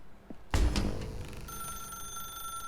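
In The Stanley Parable, a telephone rings out sharply with a bright, bell-like tone that rings on and slowly fades.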